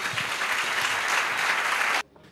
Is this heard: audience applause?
yes